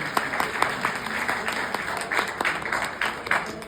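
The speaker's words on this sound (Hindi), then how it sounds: "एक बार जोरदार तालियों के साथ उन सभी का आप उत्साहवर्धन करें" Enthusiastic applause from an audience at a poetry recitation competition, dense steady clapping with a few sharper peaks, loud and close, no talking over it.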